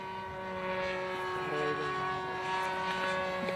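Radio-controlled model plane with an OS LA 65 engine droning steadily in flight, a continuous buzzing tone with shifting pitch, heard from a moderate distance with people talking nearby.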